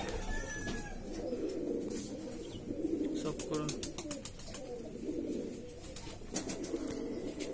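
Andhra Madrasi Mundisada pigeons coo softly and repeatedly nearby, with light bird chirps, while someone talks over them.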